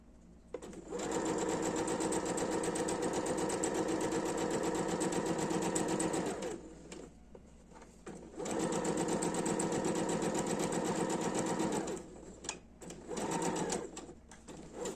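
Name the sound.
sewing machine stitching fabric for a pouch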